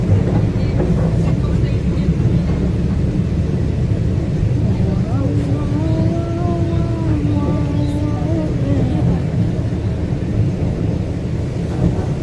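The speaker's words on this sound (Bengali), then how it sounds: "সেই টয় ট্রেন ধরেই আমরা যাচ্ছি আজকে দার্জিলিংয়ের পথে" The Darjeeling toy train running up from New Jalpaiguri, a loud steady rumble and clatter of the rails heard from on board, with a rising engine or horn tone partway through.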